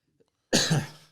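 A single harsh cough bursts out close by after a moment of near silence.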